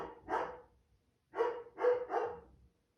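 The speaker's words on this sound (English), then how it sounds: "need to hear my dog barking?" A dog barks indoors, one bark followed after a pause by two or three quick barks, faint and slightly distant, picked up by a room microphone.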